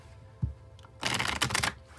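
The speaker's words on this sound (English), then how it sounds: "I'll shuffle till the deck feels ready, then I'll cut and we'll deal right off the top" A tarot card deck being riffled and shuffled, a short tap followed by a dense, crisp burst of card flutter lasting under a second, close and fairly loud with no talking.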